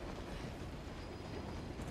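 A train rolls along in the video game Uncharted: The Lost Legacy, a steady, dense rumble with a rattling low-end roar that holds without letup for the whole short stretch.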